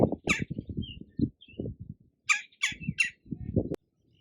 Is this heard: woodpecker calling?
yes